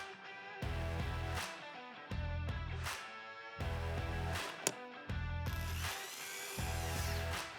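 A ratchet wrench loosening two 10mm bolts beneath the steering column panel of a Toyota Tundra, heard as several close bursts of rapid metallic clicking broken by short pauses, with no talking.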